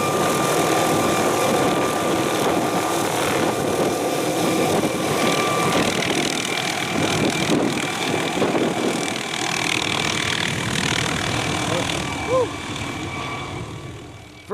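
Helicopter carrying hunters and their gear into New Zealand backcountry, a steady loud rotor and engine drone running throughout, continuous and close, with faint voices mixed in beneath.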